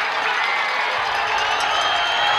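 A college football crowd at a Nebraska Wesleyan vs Dakota Wesleyan game roars steadily as the defense whips up the fans late in the game, a dense, continuous wash of cheering with no break.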